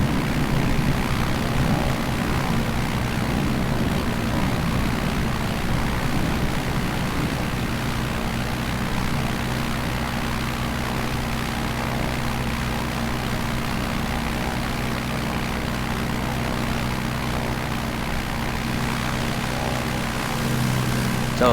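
Propeller airplane taking off in Microsoft Flight Simulator 2020 over Honolulu, a steady droning engine roar with a continuous low hum, loud and unbroken throughout.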